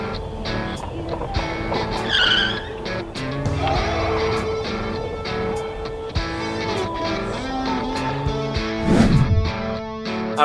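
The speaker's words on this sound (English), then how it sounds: "a car on the other side of the road loses control and nearly hits the cameraman" A car loses control on a road, its tires squealing and skidding in long wavering screeches that swell and fade over several seconds, with engine noise and scattered road sounds around it.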